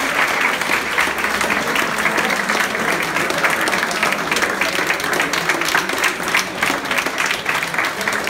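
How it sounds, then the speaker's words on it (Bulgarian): A crowd gives loud, sustained applause for all the competing teams, many hands clapping close by in a dense, continuous roar with some voices mixed in. "Още веднъж аплодисменти за всички."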